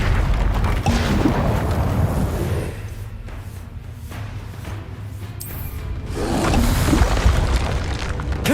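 Fire spell cast in the video game Hogwarts Legacy, a loud booming whoosh of flame that swells at the start, dies down to a low rumble mid-clip, then flares up again near the end.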